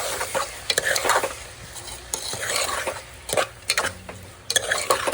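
A spoon stirs lemon juice and salt into a spinach khichdi mixture in a pot, giving close, irregular scraping and clinking strokes that come in short bursts and pauses.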